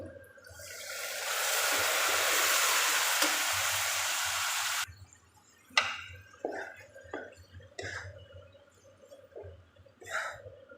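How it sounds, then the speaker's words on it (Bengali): Boiled mung dal drops into a hot pan with a loud, steady sizzle for several seconds, then dies down to scattered wet spatula scrapes and soft stirring knocks, close by with no talk. "এখন আমি সিদ্ধ করা মুগ ডাল দিয়ে দেবো"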